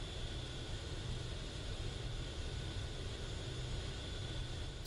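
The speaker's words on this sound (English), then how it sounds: "Turn this jet noise down." Steady, broadband jet engine roar inside a flight simulator game, a continuous dense rush with no breaks, heard up close and at constant loudness.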